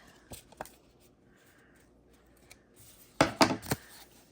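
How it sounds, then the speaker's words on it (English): Scissors trimming loose threads from a handmade card tag, two quick snips near the start and then a close cluster of three or four sharp cuts, otherwise quiet with no talking. "we're going to trim our threads from the top and from the back"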